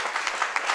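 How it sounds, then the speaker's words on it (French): Short burst of audience applause during a comedic theatre performance, a soft, dense patter of clapping lasting under a second. "Applaudissez."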